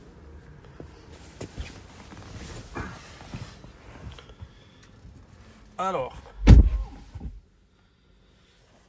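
Footsteps and a car door opening and shutting as someone walks to an electric car at a GoFast 300 kW supercharger and climbs in, a loud thud near the end followed by silence, with brief speech.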